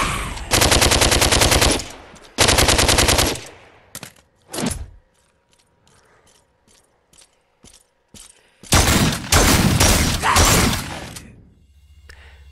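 Rapid automatic gunfire from a PSVR wave shooter video game with real-life guns comes in loud sustained bursts, then a stretch of sparse single shots and clicks in quiet, before another heavy volley.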